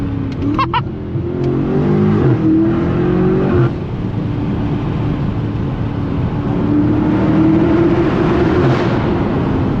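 A BMW M5 Competition engine rumbles loudly and steadily, rising and falling as it revs in city streets, close and continuous throughout.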